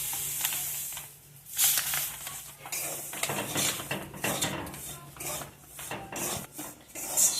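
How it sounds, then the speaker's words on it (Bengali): Semolina roasting in a spoonful of ghee in a kadai for suji pitha, a steady close scraping and rasping of a spatula against the pan with irregular louder strokes throughout. "এবার সুজিটা ভেজে নেব।"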